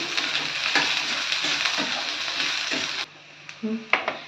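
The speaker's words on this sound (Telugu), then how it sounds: "ఇప్పుడు వీటిని బాగా ఫ్రై చేసుకోవాలి." Green chillies and curry leaves fry in a pan while making chicken fry, giving a steady close sizzle with stirring, then a short break followed by a few scraping and clinking sounds.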